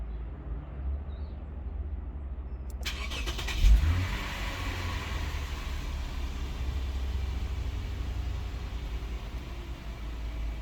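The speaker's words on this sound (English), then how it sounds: "start the vehicle and just let it idle" Lexus IS350 engine starting and then idling after an oil change, with a brief crank followed by a steady, even engine hum that carries on to the end.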